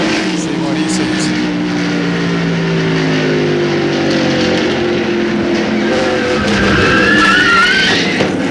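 NASCAR stock cars in the 1995 Southern 500 at Darlington Raceway roar steadily into turn 1, engine drone layered with shifting pitches, loud and continuous throughout.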